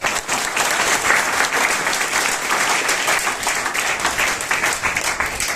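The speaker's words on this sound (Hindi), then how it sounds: "तो आपकी तालियां बजाएंगे" A seminar audience at a youth empowerment success celebration gives dense, continuous applause that stays loud and even from start to finish, with no talking over it.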